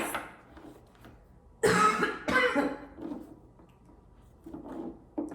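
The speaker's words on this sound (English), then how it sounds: "I just had the cold flu like a week ago, and I swear, still coughing" Two harsh coughs from someone recovering from a cold, close to the mic, one after the other, followed by quieter breathing and faint rustling.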